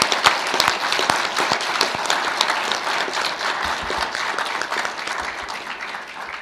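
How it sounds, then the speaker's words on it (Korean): Audience applause at a Korean government bill-signing ceremony honoring veterans and their families, a steady, dense round of clapping from a large crowd filling the whole stretch at even strength. "큰 박수를 부탁드립니다."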